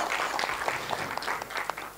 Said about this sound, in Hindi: जोरदार तालियां for this special special occasion